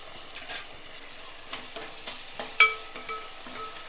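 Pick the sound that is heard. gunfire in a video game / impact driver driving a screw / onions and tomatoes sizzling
onions and tomatoes sizzling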